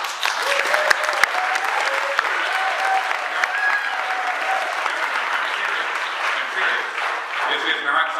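Sustained, loud audience applause fills a church during an anti-war speak out, dense steady clapping with some faint voices mixed in.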